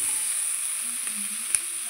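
Onion sizzles in hot oil for masala bhat, a steady close hiss with a brief clink from a utensil partway through.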